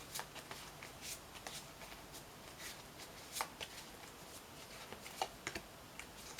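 Tarot cards shuffled by hand, faint, soft riffling and papery slaps repeating irregularly, close by and quiet against a low background hiss.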